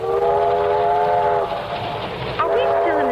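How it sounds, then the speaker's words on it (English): A steam train in a radio drama sound effect sounds a sustained, loud multi-tone whistle, then hissing steam and rolling carriage noise with a second, rising whistle blast near the end. "To ride, swaying and bouncing behind that iron monster with its hiss of steam and its great proud plume of black coal smoke curling away in the wind"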